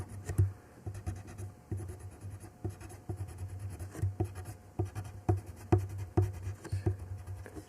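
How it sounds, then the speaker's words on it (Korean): Pencil or brush strokes drawing a snowy fir tree on paper, close, rhythmic scratchy taps and short rubbing strokes in quick irregular succession, quiet and with no talking. "오늘은 일단 나무만 그리는"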